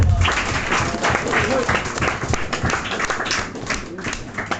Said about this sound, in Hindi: please put your hands together for her